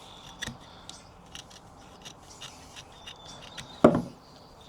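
Nextorch Pioneer multi-tool scissors cut through a layer of rubber and fabric, giving a series of soft snips and crunches over quiet background noise, with one louder cut near the end.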